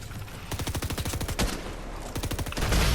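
Sheriff revolver gunfire in the Fortnite video game, heard as quick, rapid strings of sharp shots in two bursts, fairly faint and without speech.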